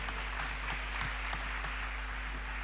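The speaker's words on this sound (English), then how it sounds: "please once again give applause to Professor Phillips" Seminar audience applauding after a speech at an international academic event, a steady wash of clapping filling the short stretch at moderate loudness with no talk over it.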